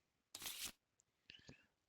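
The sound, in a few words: shuffling a deck of cards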